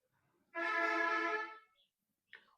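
A bus's powerful air horn blasts loud and steady for about a second on a road near a classroom, followed by a short faint chirp.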